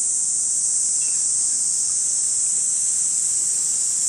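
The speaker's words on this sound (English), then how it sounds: "It's the Cicada, which just now, it's June 20th, 19th, whatever, 20th. And I don't even know what day it is, but they just now emerged. And they're singing." Cicadas singing up in a tree in Fukui, Japan, in early summer, a loud, unbroken high-pitched drone that holds steady from start to end with no voices.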